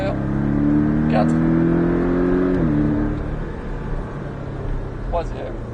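A Porsche Cayman S engine accelerates on a driving course, a steady rising drone that climbs then drops briefly as a gear changes, with an instructor talking over it.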